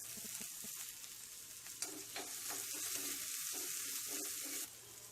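Onions and curry leaves sauté in hot oil for kara kuzhi paniyaram, a close, quiet, steady sizzle with soft stirring scrapes and a brief watery splash midway.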